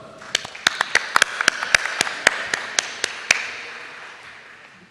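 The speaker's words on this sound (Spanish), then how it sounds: "Recibámoslo con un aplauso." Sparse, uneven handclaps from a small audience at an opening ceremony and conference, about a dozen sharp claps spread over roughly three seconds before fading into quiet room tone.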